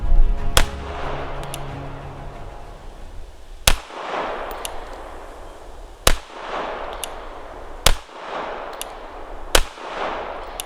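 Pistol shots ring out at an indoor-style range aimed at a 7-yard target, about seven sharp, loud reports spaced a second or two apart, with quiet gaps between them.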